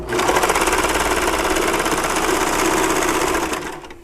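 An overlock serger sews a seam in red thread on thin fabric, one steady, loud, fast-chattering run lasting several seconds before winding down at the end, with no talk.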